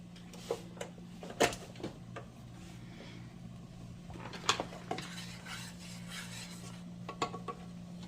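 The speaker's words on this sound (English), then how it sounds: "I'm going to saute my carrots and my sausage in the avocado oil" Carrots and turkey sausage stirred in avocado oil in a pan, with scattered scraping and clinking of a utensil against the cookware over a faint background hum, no sizzle standing out.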